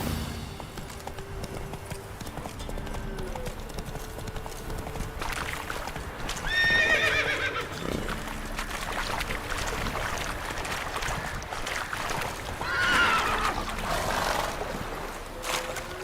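A horse in The Witcher 3 video game whinnies twice over a steady bed of hoofbeats and ambient game sound, the neighs loud and close, with no talk.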